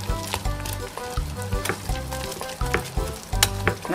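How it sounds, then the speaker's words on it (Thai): Flour is stirred into keto banana cake batter in a bowl, making steady, rhythmic scraping and slapping strokes that repeat about every half second. The sound is close and alone, with no voices. "แป้งคนส่วนผสมให้เข้ากันค่ะ"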